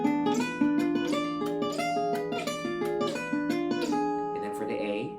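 Gypsy jazz style guitar plays a diminished 7th arpeggio, picked notes ringing clearly and evenly over about five seconds, close and alone.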